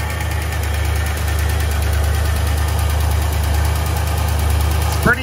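A 1965 Chevrolet Malibu L79 V8 idles at high RPM, a steady loud rumble with a constant pulsing throb that holds evenly throughout, with a brief knock near the end.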